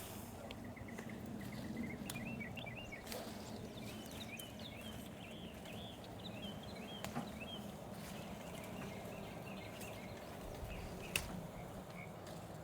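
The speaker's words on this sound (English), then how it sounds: "Love listening to them birds in the morning." Birds chirp and trill in short repeated phrases in the morning in a garden, at a moderate distance over a low steady outdoor rumble, with occasional faint clicks.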